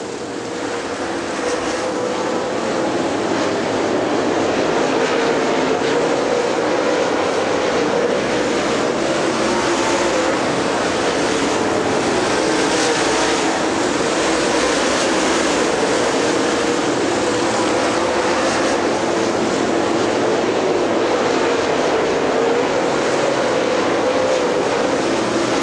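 Super late model race cars roar three wide down the back straightaway at Rome, a dense, loud, continuous engine drone with no break, heard alone.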